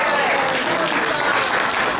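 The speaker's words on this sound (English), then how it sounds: "So give her a big round of applause too." A seated audience at a United Nations high-level side event for Miss CARICOM's 20th anniversary breaks into steady, dense applause that fills the whole moment without pause.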